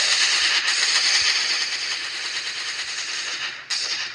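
Rapid bursts of automatic gunfire from the video game Last Day on Earth: Survival, loud and close, rattling continuously and then cutting off before a final burst.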